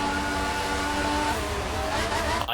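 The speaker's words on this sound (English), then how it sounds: "So I just heard the car noise of Gary coming out of that corner" A race car in an online racing series at a US round accelerates out of a corner, engine note rising and holding loud and close for a couple of seconds, then cutting off abruptly at the end.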